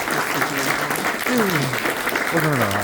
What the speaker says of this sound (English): Can we give Tony and the team a round of applause, please?